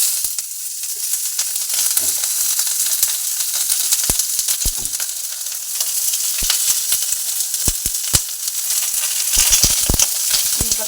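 Prawn paturi wrapped in bottle-gourd leaves sizzles in oil on a tawa, a loud, steady close-up hiss broken by sharp crackles and pops scattered throughout, with no voices.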